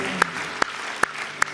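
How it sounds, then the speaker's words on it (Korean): A church congregation clapping in time during worship, four sharp, evenly spaced claps over a faint sustained musical background. "주님 앞에 영광의 박수 올려드리며 나아갑니다"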